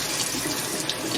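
Water from a tap rushes steadily over a freshly cleaned rainbow trout in a sink, a close, continuous splashing hiss with no voices.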